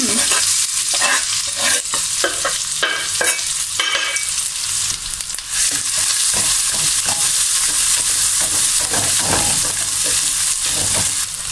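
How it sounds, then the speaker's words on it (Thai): Vegetables, including cauliflower and minced pork, are stir-fried loudly in a pan over high heat, with constant sizzling and frequent scraping and clattering of a spatula against the metal. "เสร็จแล้วก็มาผัดผักกัน"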